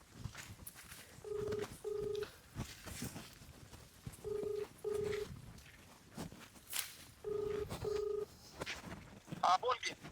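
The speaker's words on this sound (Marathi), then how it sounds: "मामांना फोन लावू आपण." Keypad tones of a phone being dialed for a call sound in three pairs of short beeps, spaced evenly apart, over soft background rustle and faint outdoor noise.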